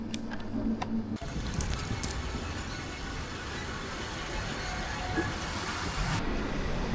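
A metro train arrives at a Helsinki station, a broad rumbling roar of wheels and motors building and holding steady for several seconds, with a brief high screech near the start.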